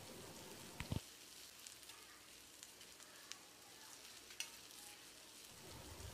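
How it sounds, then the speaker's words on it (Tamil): Soft, steady sizzling of garlic, ginger and green chilies frying in ghee in a pan, with a few faint clinks of stirring. "பச்சை வாசனை போகிற அளவுக்கு 1 30 செகண்ட் இதை ஃப்ரை பண்ணிக்கலாம்"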